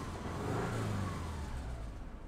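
A Subaru Outback engine with cylinder 3 and 4 misfire codes idles and hums steadily at low volume, with a faint rise in revs early on, no voices present.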